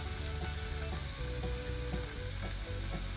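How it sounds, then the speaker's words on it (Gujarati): Jamun seed mukhwas with lemon juice and turmeric is stirred in a pan over low heat, a steady soft sizzle broken by repeated scraping strokes of the spoon. "અને ધીમે તાપે હલાવતા જઈશું"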